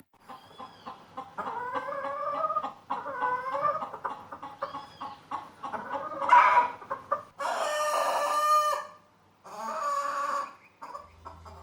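A man imitates a hen laying an egg during a performance-art piece before an audience, voicing loud, scandalous squawks and clucks in repeated bursts, close and alone, with a few short pauses between phrases.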